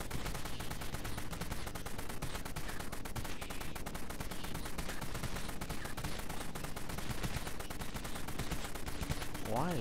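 Rapid, relentless automatic fire from a Vulcan gun in the Dead Frontier video game, a loud unbroken stream of shots hammering for the full stretch with no pauses.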